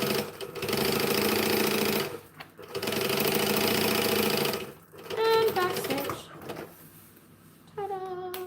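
Sewing machine stitching a piece for a five-piece clothing set, running in two loud bursts of rapid needle clatter, then short stops for back stitching while a person talks in between.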